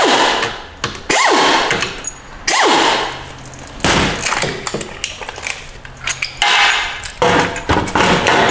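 Ratchet wrench with an 8mm socket turning bolts out of a 4L60 automatic transmission during teardown, giving bursts of close metallic clicking and clattering with brief pauses between runs.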